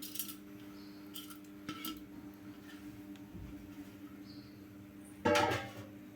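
Washed moong dal goes into a small pressure cooker. Faint metal clinks of utensils come first, then a short, louder rattling pour near the end in a quiet kitchen.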